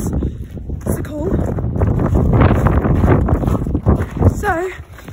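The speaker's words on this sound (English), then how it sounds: "So, it's very windy," Strong wind gusts roar and buffet the microphone on a snowy day in the UK while a person talks over the rumbling, close and loud.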